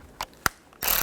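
A ratchet snugs down the tail light bolts on a 2007-16 GMC Acadia in a few quick, close clicks, ending in a brief burst of rapid ratcheting.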